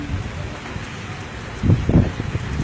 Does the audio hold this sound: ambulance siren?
no